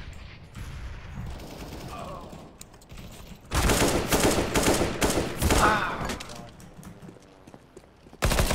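Rapid gunfire bursts and heavy blasts in a video game, with a grenade thrown amid the shooting; loud, dense volleys come in waves, with a voice talking during quieter stretches.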